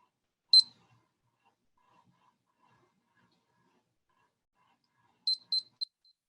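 A lab timer for plasmid work beeps once sharply, then after a long silence gives a quick burst of three high beeps, near and clear with no voices.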